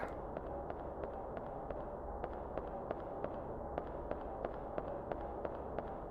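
A grenade explodes in the survival horror video game Dino Crisis, heard as a series of sharp crackling bursts repeating at a steady pace over a dense, rumbling background of game sound.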